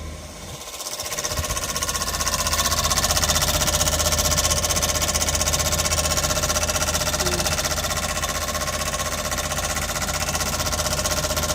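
An air conditioner unit gives a loud, steady mechanical drone with a rattling, vibrating buzz throughout, close by and constant, with no voices.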